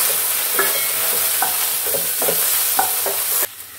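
Okra stir-fries in a pan under a loud, steady sizzle, with a regular series of spatula scrapes before the frying cuts off near the end.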